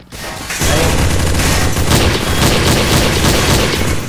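Rapid semi-automatic sniper rifle fire in a Counter-Strike deathmatch, a dense, loud run of shots and booms that carries on steadily for several seconds with no pause.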